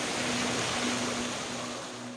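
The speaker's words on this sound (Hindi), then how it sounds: "जस्ट रोड के साइड में ये है झरना" A small waterfall beside a road near Nainital, a steady broadband rush of falling water close by with a faint tonal hum running through it, no voices.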